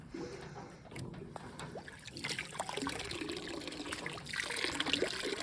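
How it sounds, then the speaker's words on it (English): Water gushes and splashes steadily from a hose fed by a Smart Bot 2800 pump drawing from a spring, spattering and gurgling with small bumps and clatters along the way. "Okay, we're getting some water now."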